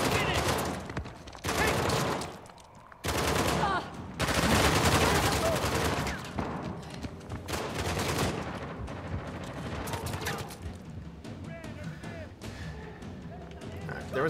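Heavy bursts of gunfire from the video game Uncharted: The Lost Legacy ring out as loud volleys and rapid shots, mixed with game effects and voices talking over the fight.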